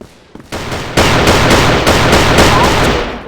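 Rapid bursts of video game gunfire ring out in a sustained volley, loud and close, with repeated sharp shots layered over one another; no speech is heard.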